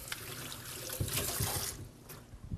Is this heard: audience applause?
no